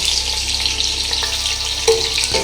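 One long-sliced onion frying in a pan for chicken pulao with vegetables, giving a steady, close hiss of sizzling oil and a couple of light stirring clicks.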